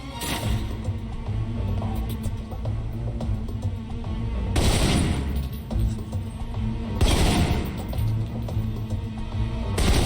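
Sustained assault rifle fire in the video game Alpha Protocol, a dense, loud stream of rapid gunshots with heavier bursts standing out near the middle and end, and no talking over it.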